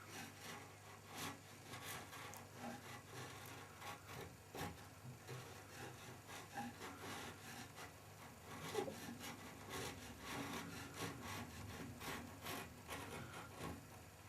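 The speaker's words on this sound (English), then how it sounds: "Cleaning up the edges with a chisel." A chisel cleans up the edges of a solid-core molded carbon wing, with steady repeated scraping and rasping strokes that stay quiet and close throughout.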